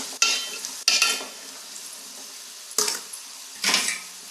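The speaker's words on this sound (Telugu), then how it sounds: "ఇప్పుడు ఒకసారి గిలిగిద్దాం" Peas cooking in a pan being stirred, with four sharp scrapes and clatters of a spoon against the pan, separated by quiet stretches of faint sizzling and no talk.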